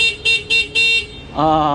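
A big-tire e-bike horn, worked from the signal-light switch, gives three short loud electronic beeps close up, then a longer lower-pitched honk.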